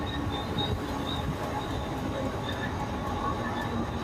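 Train at CBD Belapur railway station, a steady low rumble of rolling cars with faint rail squeals, moderately distant and continuous.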